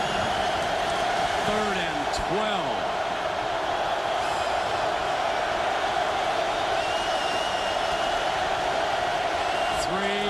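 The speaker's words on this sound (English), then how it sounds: "Listen to this crowd." A college football stadium crowd at Texas versus Ohio State roaring in a steady, loud wash of noise, with a commentator talking over it.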